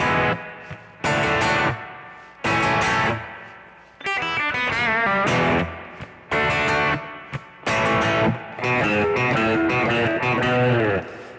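A distorted electric guitar plays the intro lick of a rock song: loud, punchy chord stabs alternating with quick single-note runs and short gaps between phrases.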